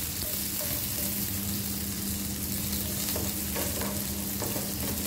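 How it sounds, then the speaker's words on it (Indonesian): Garlic and shallots sauté in a pan with a dense, loud, unbroken hiss, while occasional light scrapes mark the stirring. "di sini aku mau tumis si bawang putih sama bawang merah"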